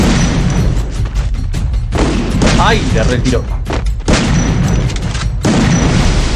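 Gunfire in a shooting video game, with repeated loud booming shots and bursts that cut in and out over several seconds, while a player talks and exclaims over them.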